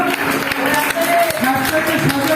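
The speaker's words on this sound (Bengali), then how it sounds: "সত্যি ওনার জন্য একটু জোরে হাততালি সদরবাবুর জন্য" Applause rises for an honoured guest at a yoga competition prize-giving: a dense, steady patter of clapping from the gathered crowd, with voices faintly audible underneath.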